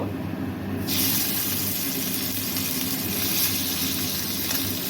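Tengra fish drop into hot oil in a small wok and burst into a loud, sudden sizzle that keeps hissing steadily, with no voices.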